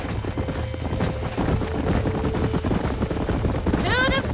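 Horse hooves clip-clop steadily through a Red Dead Redemption scene, a rhythmic trot under continuous game ambience and background voices, with a brief whinny-like rising cry near the end.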